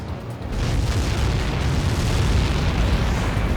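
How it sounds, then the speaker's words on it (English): Massive missile impact explosion in the combat flight game Ace Combat 7, a sudden heavy boom that swells into a sustained loud roaring rumble without any voices. "How many got caught in that explosion?"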